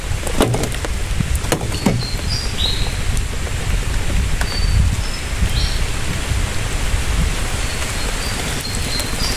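Steady rain falling and pattering on surfaces at a bridge fishing spot, a constant wash of sound with a few sharper drops and knocks near the start.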